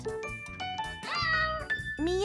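A cat gives a string of several short meows of varying pitch, close and fairly loud, with one longer wavering call in the middle.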